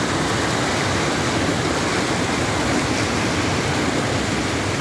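Water rushing at a reservoir dam, a loud, dense and unbroken roar of flowing water, close by with no voices.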